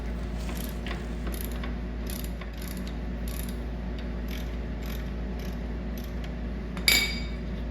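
A ratchet loosens the axle housing bolts on a 2003 Arctic Cat 500 ATV. It gives rapid, repeated clicking pawl strokes in short bursts and ends in a sharp metallic clink.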